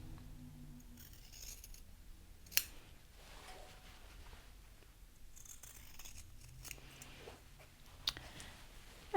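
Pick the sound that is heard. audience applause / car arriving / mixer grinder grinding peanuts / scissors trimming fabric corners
scissors trimming fabric corners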